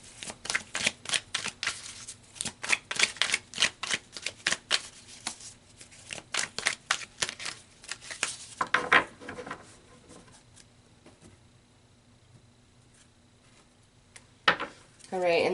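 Tarot cards are shuffled by hand in a rapid, crisp riffling patter of many small snaps, loud and close for several seconds before fading to quiet, with a few final taps.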